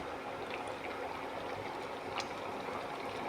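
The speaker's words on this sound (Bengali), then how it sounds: "আর গরম জল দিচ্ছি" Hot water is poured into a simmering vegetable curry in a pan, a faint, continuous trickling and splashing with a few brief bright splatters, no voices over it.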